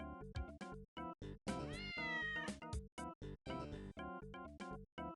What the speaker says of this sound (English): If you mess up, the cat does not stop meowing.